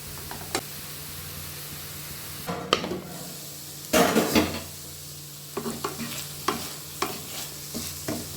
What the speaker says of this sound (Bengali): দেবো তোমার চিলি ফ্লেক্স, এটা আমি ভালো করে নেড়ে নেব।